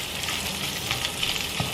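Eggs frying in a pan give off a soft, steady sizzle, brief and close, with a couple of faint crackles and no talking.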